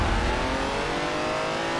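Classic Audi engine revving hard in Forza Horizon 4, a loud, steady low roar that starts strongest and holds through the whole stretch with no talk over it.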